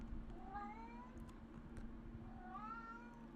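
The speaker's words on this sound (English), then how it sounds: "I swear to God, this fucking cat." A house cat meows twice, close and fairly clear, the first call drawn out and the second rising, over a low steady hum and faint background noise.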